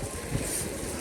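Strong cold wind at a Japanese theme park with high roller coasters, roaring steadily and buffeting the microphone in a continuous dense rush with no talking.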